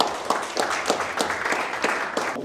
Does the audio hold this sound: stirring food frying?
no